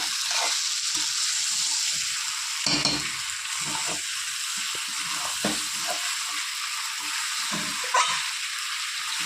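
Goat meat and boiled new potatoes fry gently over a low gas flame, giving a soft continuous sizzle with occasional spoon scrapes and knocks against the pan and no voices.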